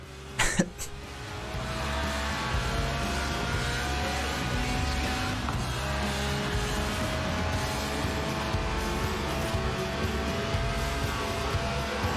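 A Lotus sports car's 1.8-litre, 190-horsepower engine in Forza Horizon 4 drones at high revs toward 8,000 RPM, a steady loud buzzing roar with shifting tones, opening with a brief cough-like burst.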